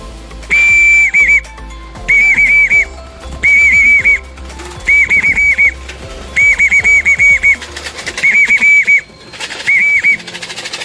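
Pigeons arriving on a landing board, a loud high whistle tone repeating in regular short bursts about every second and a half, with faint rustles and thumps between, no talk.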